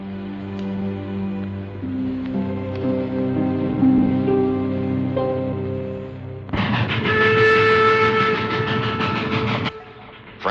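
A train rolls along the tracks with a steady rumble and clatter, then a loud sustained horn blast sounds over the running noise before cutting off near the end.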